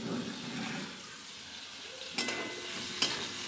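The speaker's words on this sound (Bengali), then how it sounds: "দেখো আর একটు ভাজবো, দিয়ে পটলগুলো ভাজা হয়ে গেলে আলুগুলো ভাজবো।" Pointed gourd (potol) frying in oil in a pan, a steady soft sizzle throughout with two sharp clinks of a utensil against the pan near the end, no talking.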